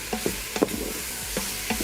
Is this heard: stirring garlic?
yes